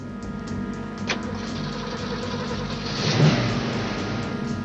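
A green 1968 Ford Mustang GT390 Fastback in the Bullitt car chase, its mid-pitched engine droning steadily and swelling into a louder rev near the end, with no voices.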